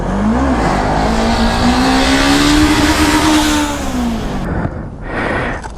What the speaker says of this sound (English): Can a CB500F wheelie? Yes, it most certainly can.